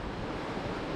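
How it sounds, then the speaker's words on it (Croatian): The Paklenica mountain stream rushes steadily in a brief, continuous wash of water noise with no voices. "Uvijek smo pored potoka Paklenica dolje."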